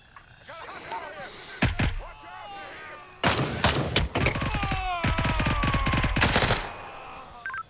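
Gunfire in a tactical shooter video game, loud close bursts of rapid automatic shots in uneven runs, with a voice talking in between.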